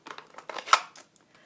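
Scissors snip through Smoky Slate cardstock for a handmade card in a series of quick, crisp, close cuts, one sharper and louder than the rest, then trailing off into near silence.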